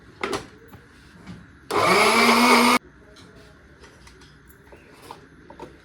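A kitchen mixer grinder blends ginger and garlic into paste in one loud, close burst of about a second, with quiet room sounds before and after.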